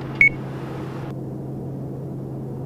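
A TBM850 autopilot disconnect warning beep sounds once in the cockpit, a single short, sharp tone cut off quickly, over the steady loud drone of the aircraft in flight.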